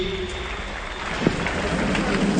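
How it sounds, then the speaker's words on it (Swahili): A stadium crowd claps for soldiers as they leave the field, a steady, diffuse patter of applause heard at a distance with a voice faintly underneath. "Wananchi tuongeze makofi wanapoondoka hapa uwanjani wanajeshi hawa."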